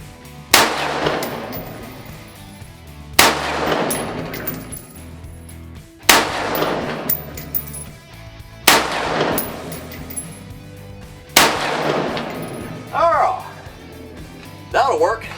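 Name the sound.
rifle shots fired at a target through an LPVO scope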